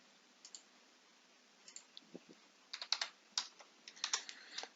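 Typing on a computer keyboard, sparse key clicks at first that turn into quick clustered taps, close and crisp against a quiet room.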